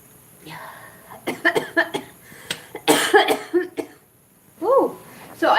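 Repeated harsh coughing fits after smoking cannabis, with several sharp bursts and throat-clearing sounds, loud and close, and a brief voiced exclamation near the end.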